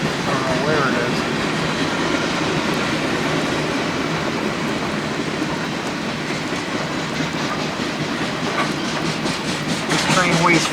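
A heavily loaded freight train of over 15,000 tons, mostly carrying New York City trash, rolls past close by with a steady broadband roar and rhythmic clickety-clack of wheels on rail joints, continuous throughout amid gusty wind.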